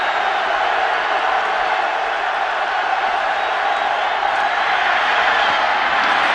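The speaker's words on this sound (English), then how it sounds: "Crowd picks up the roar on 3rd and 5." A stadium crowd at a Green Bay Packers versus Indianapolis Colts football game roars loudly and without a break, forming a dense, continuous wash of cheering throughout.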